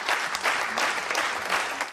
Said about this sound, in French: les applaudissements viennent de tous les rangs